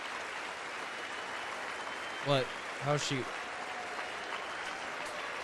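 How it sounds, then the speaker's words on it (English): Steady, even applause from a State of the Union audience, a dense clapping wash running through the clip, briefly broken by a couple of short spoken words. "And how Kamala claps, it's so creepy."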